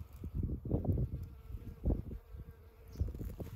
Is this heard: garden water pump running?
no